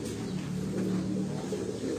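Pigeons cooing from a Gujrat rooftop during a pigeon-flying event, a steady low murmuring coo that continues throughout at moderate distance with no talk.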